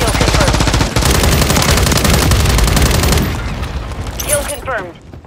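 Rapid automatic gunfire in Call of Duty, a loud continuous burst of close shots that stops after about three seconds, followed by faint game noise and a shouted voice.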